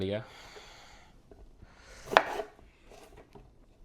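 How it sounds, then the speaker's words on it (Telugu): A knife chops through ridge gourd with one sharp, close cut that stands out from a brief voice at the start and soft kitchen shuffling around it. "ఇంకా బీరకాయలు ఫాస్ట్గా కట్ చేసి ఇప్పుడే"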